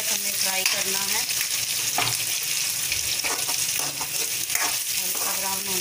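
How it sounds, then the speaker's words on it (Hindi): Chopped onions hiss loudly as they fry in a pan on high heat, with an unbroken sizzle, spatula stirring strokes and faint tonal hum beneath. "हम अपना ये प्याज और ये जो हमने काटा था फ्राई कर रहे हैं"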